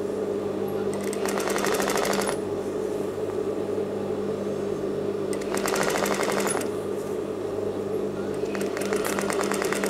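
Sewing machine stitching down a zip fly on slacks trousers, running in three steady bursts of rapid mechanical stitching over a constant motor hum, close and fairly loud with no talking.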